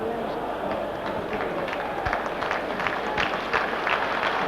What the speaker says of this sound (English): Sympathetic applause then for Ruud Hullet